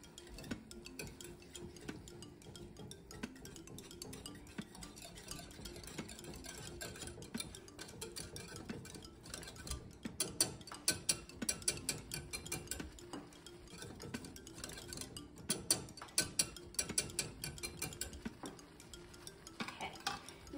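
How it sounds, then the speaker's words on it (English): A whisk scrapes and taps briskly against a pot while stirring a parmesan cheese sauce, giving a faint, continuous clatter close by with no talk. "Now you're gonna whisk that."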